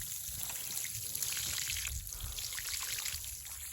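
Water poured steadily from a bucket onto the soil around a newly planted red maple, a continuous trickling splash that swells and eases in waves, close and moderately loud with no talking.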